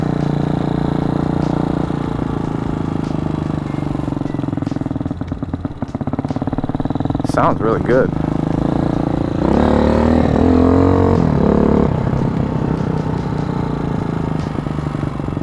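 A 2020 Hawk 250 Enduro off-road motorcycle runs loud and close, its engine idling with rough rhythmic chugging and a few blips of revving, while someone talks briefly over it.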